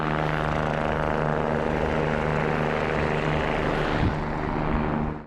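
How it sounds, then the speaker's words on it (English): Rescue helicopter overhead in freezing mountain air, its blades and engine making a loud, steady, close throbbing roar that holds for several seconds before cutting off abruptly. "the sound of helicopter blades finally thundered overhead"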